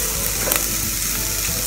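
Boerewors sausage stew braising in a pan with browned garlic, giving a steady close sizzle and frying hiss throughout, with a brief clink partway through and no talking.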